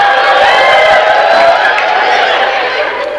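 A church congregation during a sermon, a loud close crowd roar of cheering and whooping voices sustained throughout, with mixed clapping under the shouting.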